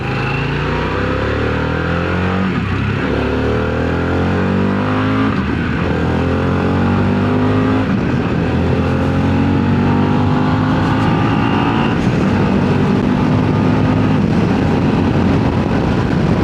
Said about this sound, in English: That was using the quick shifter, not touching the clutch at all.